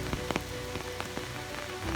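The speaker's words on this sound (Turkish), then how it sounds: "Yağmurun sesi de duyuluyordu diye tahmin ediyorum." Steady rain falling on a surface during a nature walk, with scattered distinct drips and taps over a constant wash of patter.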